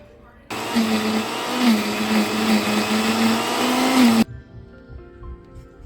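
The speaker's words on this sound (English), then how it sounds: "Grinding my broccoli, carrots, and celery for my soup." A blender grinds broccoli, carrots and celery into a soup puree, a loud steady whirring motor that starts abruptly, holds a droning hum with slight pitch wobble for nearly four seconds, then cuts off sharply.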